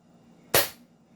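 A single sharp, loud crack from a VSR-11 airsoft sniper rifle with a stiff spring, braced on a table, fired once in a quiet room with a quick decay and no voices.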